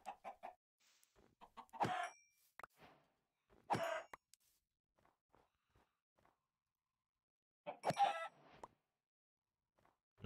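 Chickens in the video game Minecraft let out a few short clucking bursts at spaced intervals against near silence. Faint soft steps and clicks sound in between.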